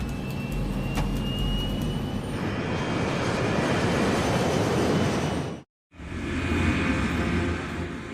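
A Boeing 737 airliner roars through an attempted takeoff with its flaps in the wrong position, a loud, steady broadband engine rumble sustained throughout, broken once by a brief cutout of near silence before the roar resumes.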